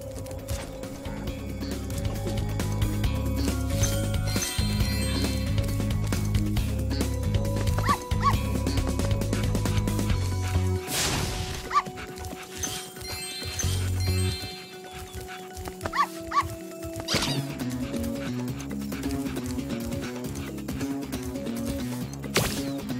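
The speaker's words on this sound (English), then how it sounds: "listening to his steadily softening whimpers" A dog in the Spyro Reignited Trilogy video game barks and whimpers over game music and mechanical sounds, with repeated yips at first, then a quieter, sparser stretch.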